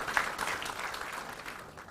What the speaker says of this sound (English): Round of applause to the answer.